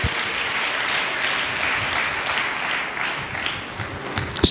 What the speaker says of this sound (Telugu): గట్టిగా చప్పట్లు కొట్టి ప్రభుని కనపరచండి